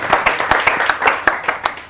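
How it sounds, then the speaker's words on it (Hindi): A small audience at a patriotic poetry event claps to welcome a poet, with fairly close, distinct hand claps in a loose, uneven rhythm for a couple of seconds. "आप सबकी तालियां भी उनका स्वागत करेंगी"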